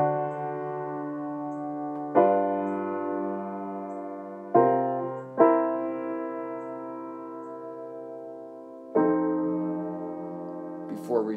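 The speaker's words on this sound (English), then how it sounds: "that tritone resolves outward in a planal triad" Sustained piano-like chords, about five in all, change in a slow progression with a tritone resolving outward to a plagal triad. Each chord rings near and clear, then decays until the next one sounds.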